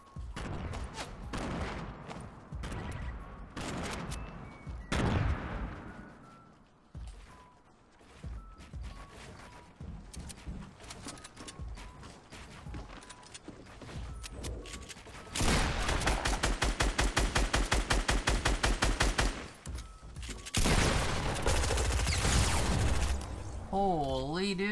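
Sniper rifle and other gunfire ring out in a Fortnite match, with sharp shots and bursts of rapid fire layered over game effects and a player talking throughout.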